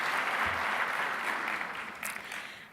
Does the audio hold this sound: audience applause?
yes